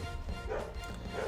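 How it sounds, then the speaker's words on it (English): A dog barks outside a house, its bow-wow sounds muffled and fairly faint against a constant busy background. "Somebody's walking their dog outside my house."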